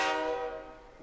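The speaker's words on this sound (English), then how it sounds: "Inside the New City passenger train," A passenger train in the Persona 3 Portable video game gives a single bright, tonal horn-like blast that fades quickly, fairly quiet and alone.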